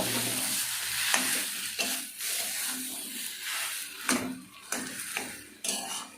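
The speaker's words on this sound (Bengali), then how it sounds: "এরপর আমি সেই মাখানো আলুটা দিয়ে দেব। দিয়ে একটু নাড়াচাড়া করে নেব।" Mashed boiled potato is stirred and fried in a pan for Bengali chops: a continuous close sizzle with repeated scraping and clinking strokes of a utensil against the pan every second or so.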